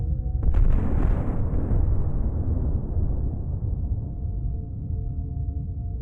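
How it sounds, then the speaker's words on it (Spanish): A powerful explosion bursts out sharply, then a long, heavy rumble slowly fades away over several seconds. "Entonces escuchamos una poderosa explosión."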